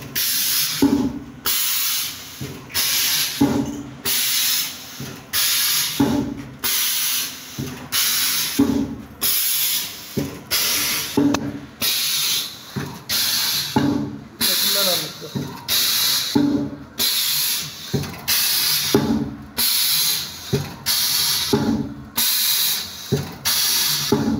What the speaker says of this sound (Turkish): Şimdi artık kendisi çalışsın makine.